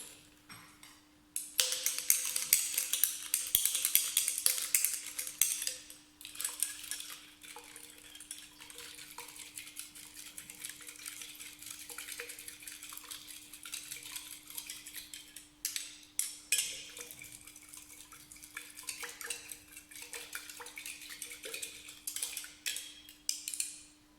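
A spoon stirs sugar into warm water for a yeast experiment, producing a long run of quick metallic clinks and scraping against the container with short pauses, close and continuous, a thin steady tone underneath.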